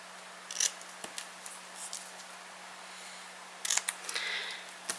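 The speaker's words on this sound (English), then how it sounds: "So I'm just going to cut these apart." Scissors snip apart magnetic craft cards for storing dies and stamp sets, giving a few short, crisp cuts in two quiet clusters with pauses between.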